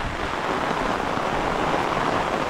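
Monsoon rain falling near a dam in the Konkan region, Ratnagiri: a steady, even hiss of drops on surfaces, moderately loud and continuous without voices.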